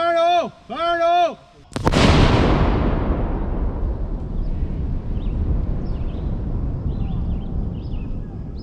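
A shouted voice comes first, then an explosive breaching charge detonates during US Army sapper urban breaching training: one sudden, very loud blast followed by a long, rumbling decay that fades over several seconds.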